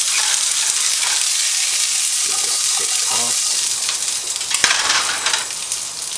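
Edamame in the shell sizzles steadily as it is stir-fried in a hot pan, a dense close hiss with brief scraping stirs and a small clink near the end.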